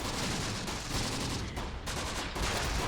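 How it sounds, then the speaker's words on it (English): Mortar shells burst in rapid succession during a World War II battle in the Italian hills in Close Combat, a dense, loud rumble of blasts that barely lets up across the whole stretch. "Nice mortar strike at the very least."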